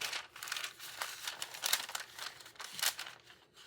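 Close crinkling and rustling of a small paper piece being folded over for a journal page, a few soft crumpling bursts alone with no speech.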